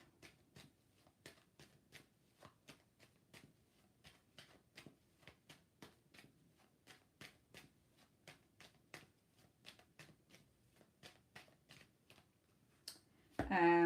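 Tarot cards are shuffled during a live reading, giving a long run of crisp, regular riffling bursts about two per second, close and fairly quiet, ending with a louder burst of sound.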